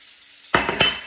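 Diced potatoes, onions and peppers dropped into a hot pan for a Jamaican lamb shank dish, two quick loud clattering hits with a bright sizzle starting over a faint background hiss.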